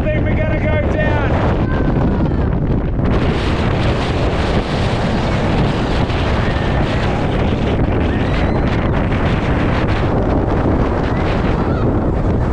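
Strong wind buffets the microphone at a beach lookout near the top of a climb, a loud continuous roaring rumble throughout, with a voice heard briefly under it at the start.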